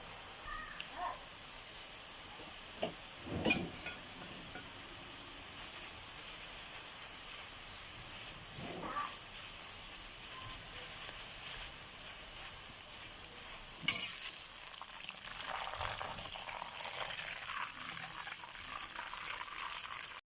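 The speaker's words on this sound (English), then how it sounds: "Time to fry the garnish taro shreds." Taro shreds deep frying in hot oil, a faint, steady bubbling hiss with occasional stirring scrapes and brief sharper crackles, heard close up without talk.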